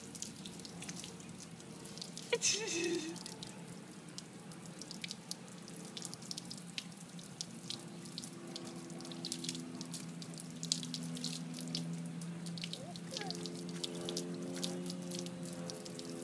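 Garden hose water spraying and splashing outdoors, a continuous hiss and patter with drips, plus a few brief voice-like sounds partway through.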